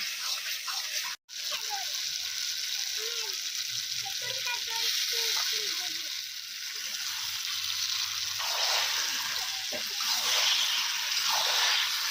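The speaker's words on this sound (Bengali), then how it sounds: "আমরা কড়াতে মশলাটা তৈরি করে চিকেন রান্না করি" Chicken frying in spice masala in a kadai gives a steady broadband sizzle throughout, with scattered stirring scrapes and a brief cut near the start; soft voices murmur faintly underneath.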